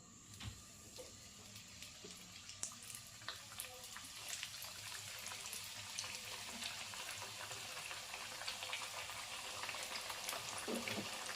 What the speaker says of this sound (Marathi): आता हे वडे आपल्याला तांबूस रंगावर तळून घ्यायचे